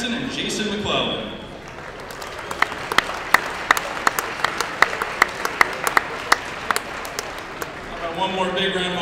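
In a high school gym at a varsity boys basketball game, spectators clap for the Pontiac Unified Basketball Team, the applause swelling in after a moment of announcer talk and fading as speech returns at the end.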